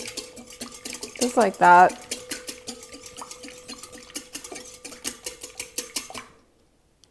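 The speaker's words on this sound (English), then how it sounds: "I'm just going to go in here with my whisk and do it" A whisk stirs sugar and oil in a bowl, giving a fast run of close, rhythmic metallic clicks and scrapes that stops near the end, with a brief spoken remark partway through.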